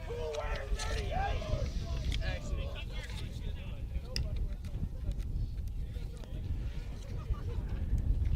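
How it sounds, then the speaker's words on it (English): Strong wind buffets the microphone at an outdoor high school baseball game, a constant low rumble under a commentator's voice throughout. "If that old wind would die down, it wouldn't be too bad out here, but that wind is rough. You probably hear that in the background."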